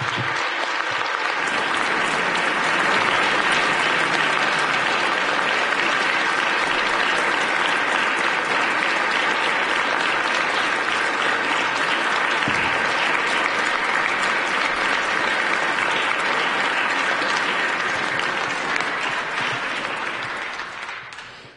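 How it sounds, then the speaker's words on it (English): Lawmakers in a House chamber give police officers a standing ovation, long sustained applause from a large crowd, loud and even for about twenty seconds before tapering off. "I'd ask everyone to stand and give these officers a round of applause for their terrific work."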